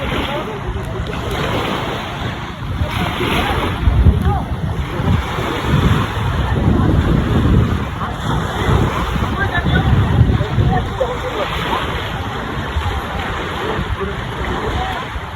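Sea waves wash continuously onto the shore with a broad rushing surge, mixed with gusty wind buffeting the microphone and voices talking nearby.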